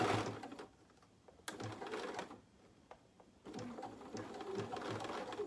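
An embroidery sewing machine stitches in short runs, a close buzzing whir that starts, stops for a pivot at a corner, then resumes and keeps going.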